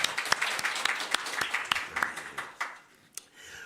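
A church congregation at a Sunday worship service bursts into applause, a dense run of hand claps that is steady and full at first and then thins out and fades toward the end.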